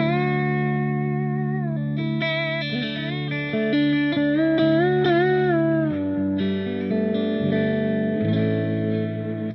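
Electric guitar chords with heavy distortion from a Gecko Pedals O Face modulated overdrive, washed in reverb and echoing delay, ringing and sustaining between changes.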